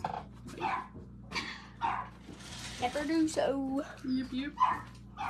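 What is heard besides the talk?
dogs barking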